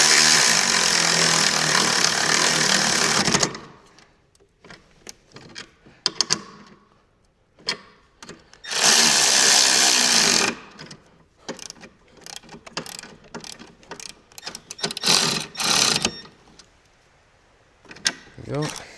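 Coil bolts being tightened on a 2008 Polaris IQ 700 snowmobile, heard as close ratcheting clicks in short irregular bursts broken by pauses, with two longer dense stretches of rapid ratchet cranking.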